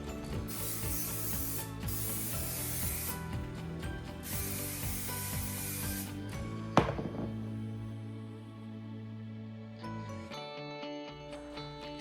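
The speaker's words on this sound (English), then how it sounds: "You're gonna spray this in all over, however much you want or however little, but you need some." Hairspray gel sprayed into curly hair: two long hissing bursts of spray, close and fairly loud, over a steady tonal background, then quieter mechanical clicks and a hum.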